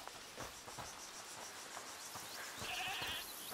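Goat bleats in the A Plague Tale: Requiem video game, a few faint wavering calls over a steady bed of chirping insects and ambient game noise, with no voices.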